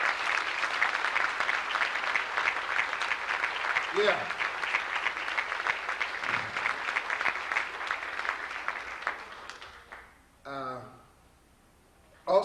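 A crowd at an all-star jazz concert gives a big round of applause: dense, steady clapping for about ten seconds that then thins out, followed by a brief voice.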